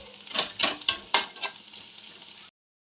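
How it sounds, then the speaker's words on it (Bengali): Onions frying in a pan for a puti fish dish, stirred with a few close scraping strokes over a soft sizzle for about two and a half seconds before going silent. "আমার কিন্তু সুন্দর করে পেঁয়াজটা ভাজা হয়ে গেছে"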